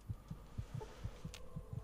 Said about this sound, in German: Also ich höre die ganze Zeit hier den Herzschlag unseres Charakters, weil wir fast tot sind.